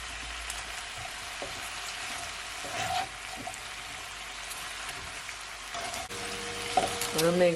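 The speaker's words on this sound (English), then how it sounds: "And now I'm gonna add my cabbage" Cabbage sizzling and frying in a pan for a vegetable stir fry, a steady crackling hiss with occasional stirring clatter, a voice briefly speaking near the end.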